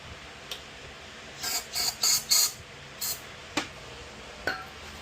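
A handful of short hissing bursts of starting fluid sprayed into a riding mower engine, four in quick succession then one more, with a few sharp metallic clicks in between.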